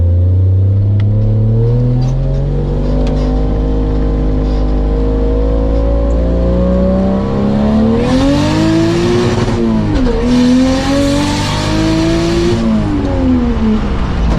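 A turbocharged 1JZ engine with stock ECU in a Nissan S14 Kouki pulls hard through rising revs, dips briefly as it shifts, then climbs again, loud and close throughout with a strong rumbling tone.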